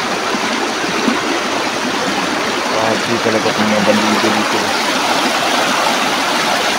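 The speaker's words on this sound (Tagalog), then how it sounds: "Kaya malakas talaga yung agos ng ilog." Steady broadband rushing of a fast-moving river swollen by overnight rain fills the scene, with people talking over it partway through.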